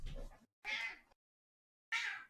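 A pet cat meows in three distinct calls, the middle one longest, each loud and close, with silent gaps between them and no talk.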